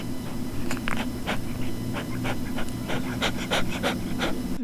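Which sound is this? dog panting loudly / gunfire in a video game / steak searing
dog panting loudly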